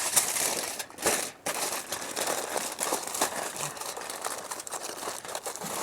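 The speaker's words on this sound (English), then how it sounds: "Guess we're gonna double foil it because that one tore." Aluminum foil crumpling and crinkling as food is double-wrapped outdoors at a fireside pop-up pit, a dense, continuous papery crackle with a few sharper rustles, close and fairly loud throughout.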